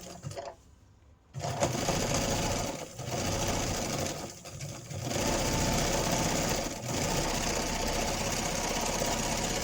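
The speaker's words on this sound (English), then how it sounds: "we're putting the Artfolio into our machine right on the edge of where the needle is. We're going to get as close as we can to the edge of that needle, and we're going to stitch it." A sewing machine stitches right along the edge of a fabric Artfolio in a kids' sewing project, its rapid needle chatter running steadily after a brief quiet start, with short pauses between runs.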